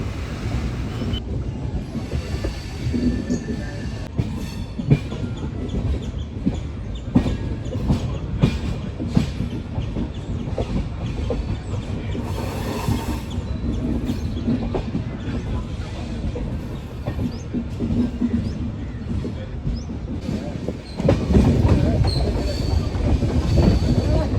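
The Konkan Kanya express rolls along the line with a loud continuous rumble from inside the coach, with rhythmic wheel clatter and squealing, growing louder and heavier near the end.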